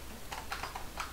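Quick keystrokes on a computer keyboard, typed while coding JavaScript for an HTML canvas, come as a short burst of several soft clicks close to the mic, with no talk over them.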